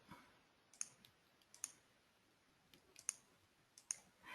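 Computer mouse clicks while working in an Excel spreadsheet, a scattered series of about nine sharp, quiet clicks in a sparse irregular rhythm, close up with no talking.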